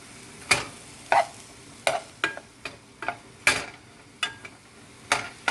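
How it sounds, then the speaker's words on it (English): Chiles rellenos frying in a pan, with oil sizzling faintly beneath a series of sharp, irregular clicks and scrapes from stirring or utensils tapping the pan, about a dozen distinct hits close by. "So, you hear that sizzling?"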